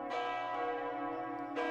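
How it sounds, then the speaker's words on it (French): A church bell rings out at 8 pm during the first Covid lockdown in France, giving two clear strikes with a long ringing, slowly decaying tone between them, and no one speaking. "les cloches sonnent à 20h"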